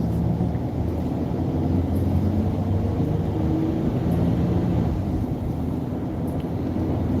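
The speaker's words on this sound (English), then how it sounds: "yeah, it's starting to rain." Rain beginning to fall on a car while driving, a dense steady rumbling wash of road and rain noise with occasional low swells, no voices.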